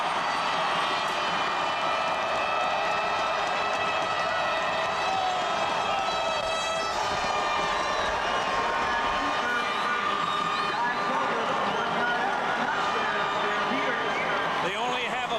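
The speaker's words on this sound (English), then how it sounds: "The noise they've been making all afternoon to cheer on their Stampeders." Calgary Stampeders fans at a 1991 CFL Western Final football game against the Edmonton Eskimos, a steady roar of crowd cheering after a touchdown, continuous and loud throughout, with a commentator talking over it.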